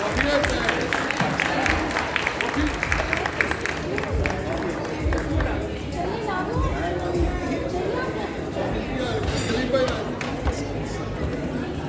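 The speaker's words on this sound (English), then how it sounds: "Warm round of applause." An audience at an interfaith Iftar gathering in Chicago applauds a speaker, a long, fairly even stretch of clapping mixed with crowd murmur and chatter.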